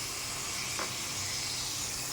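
Oil hisses loudly and steadily in a pan where papaya and onion are frying. A broad, even sizzle carries the whole clip, with one brief clink partway through and no talking.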